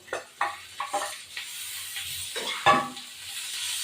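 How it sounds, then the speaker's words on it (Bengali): Figs sizzle in a hot pan while a utensil scrapes and stirs in several short strokes, close and clear. "এই যে ডুমুরটা ভাজা করবো।"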